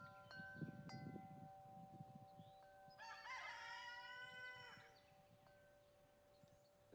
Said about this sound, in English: The rooster's mad at me this morning